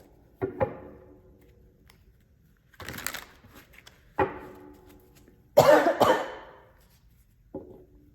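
Several separate coughs, some single and some in quick bursts, close and fairly loud with quiet pauses between.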